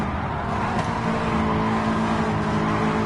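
Engine of a Subaru BRZ with a boxer four, racing in Gran Turismo Sport, drones steadily and loudly for the whole stretch with a constant tone and faint tire noise mixed in.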